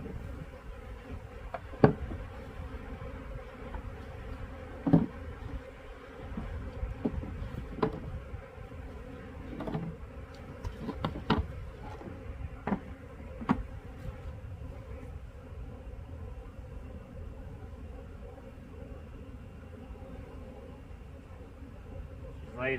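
Honeybees buzz steadily around an opened hive frame, a dense, constant drone up close, with faint clicks and handling noises scattered through and a voice speaking intermittently.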